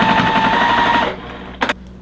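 Sewing machine stitching the corners onto a quilt block, a loud, fast, steady whirring chatter of the needle that stops abruptly after about a second, followed by a short quiet mechanical clunk and a brief rustle.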